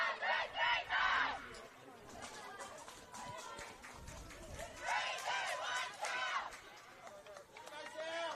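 Girls' team huddle cheer before an under-18 women's football cup final, a loud burst of young voices shouting together, then a second cheer a few seconds later over crowd chatter outdoors.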